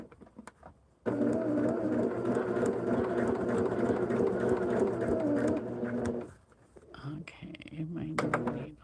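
A Jazz 2 sewing machine runs steadily and fairly loud for about five seconds, a continuous motor whir with needle rhythm, then stops; faint sounds and brief talk surround it.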